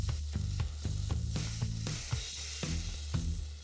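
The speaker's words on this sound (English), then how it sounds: "I brown the cubes of speck in the frying pan with a little bit of oil" Diced speck cubes sizzle and crackle in a little oil in a frying pan, a close, steady frying hiss broken by repeated clinks and scrapes of stirring, with no voices.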